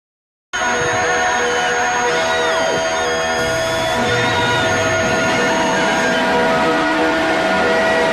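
Music plays as a dense, continuous wall of harsh electronic noise with screeching feedback tones and sliding pitches, loud and unbroken throughout.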